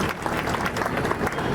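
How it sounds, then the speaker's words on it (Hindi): Audience at an awards ceremony at an agricultural career institute in Nagaur bursting into loud, continuous applause, a dense wash of clapping throughout. "सभी के लिए एक बार जोरदार ताली हो जाए"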